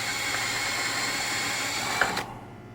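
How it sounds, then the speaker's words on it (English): A handheld power drill bores a hole into a Coleman heater box, a steady whirring drone running close and loud before cutting off abruptly near the end. "I'm going to grab our drill."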